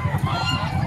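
Chickens for sale at an animal market in San Carlos City, Pangasinan, clucking and squawking in a dense, continuous poultry chorus close by, with faint voices in the background.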